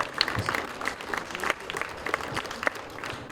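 An audience at a junior championship awards ceremony in India applauds steadily. The dense clapping carries on for a few seconds at moderate volume, with some crowd murmur mixed in.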